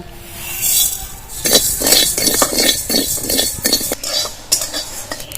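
Coriander, fenugreek, pepper, mustard and fennel roasting in a pan, with a utensil scraping and clinking in a quick, repeated stirring rhythm over a soft sizzle, close and fairly loud.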